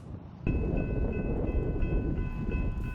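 A train rolls through a railroad crossing in Bend with a bell-like tonal whine over a loud rumbling clatter of rail cars, starting abruptly and continuing steadily at close range.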